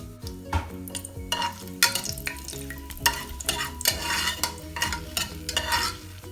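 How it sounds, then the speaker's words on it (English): Whole garam masala spices (bay leaves, caraway, cloves, cinnamon, cardamom) sautéing in hot oil for a mutton curry, with close, busy scraping stir strokes over a constant sizzle. "We'll saute all the garam masala for some time."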